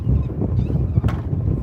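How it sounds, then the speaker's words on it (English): Strong wind buffeting the microphone on a saltwater fishing pier in Florida, a constant low roaring rumble that fills the whole stretch, close and loud, with no voices. "it's super windy, so it keeps knocking our rods over"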